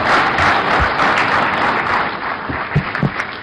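An audience applauding President Museveni at a Tanzania–Uganda business forum, dense steady clapping from a crowd throughout, with a few louder individual claps near the end.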